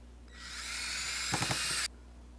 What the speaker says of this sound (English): Now we put the screw in.